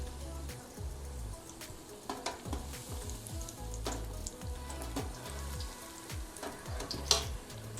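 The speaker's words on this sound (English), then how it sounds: "I'm just moving them around so they don't stick to each other or to the basket, and they fry evenly." Salted fish fritters deep frying in a basket of hot oil, a dense steady crackling sizzle with occasional crisp pops and a few faint scrapes as they are moved around, close and even throughout, no talking.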